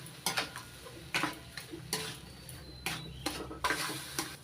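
A spoon stirring thickened milk into mango halwa with semolina in a pan over low heat, giving soft irregular scrapes and light taps against the metal at close range.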